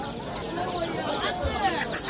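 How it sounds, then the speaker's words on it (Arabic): Chickens and roosters at a busy Friday poultry market, dense overlapping clucking and squawks filling the air continuously, with faint crowd murmur beneath. "هاي هنا في دجاج وديوك"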